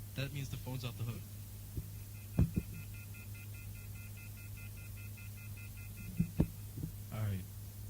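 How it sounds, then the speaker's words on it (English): A telephone off-hook tone pulses as a steady, repeating electronic beep in the background for several seconds, mixed with hum, a few thumps and voices at the start. "that means the phone's off the hook"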